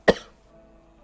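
A single short, sharp cough from a man in a studio interview about Malaysian politics, followed by near silence.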